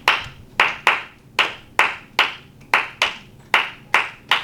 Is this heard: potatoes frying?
no